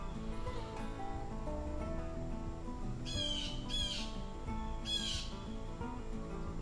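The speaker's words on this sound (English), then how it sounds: "so if you hear the birds squawking," Birds squawk outdoors at a campsite, with a few harsh, raspy calls in short bursts over a steady background hum.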